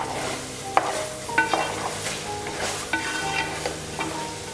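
Biryani masala for chicken donne biryani fries in a pan with coriander powder under a steady sizzle, while a spoon scrapes and stirs in regular close strokes.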